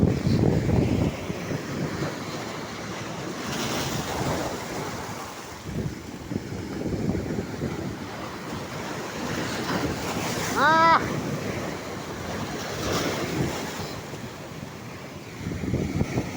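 Waves and wind at Digha Mohana estuary on an open coast: a continuous rushing surf with gusts buffeting the microphone, swelling and easing over time. A brief bird-like chirp rises near the end.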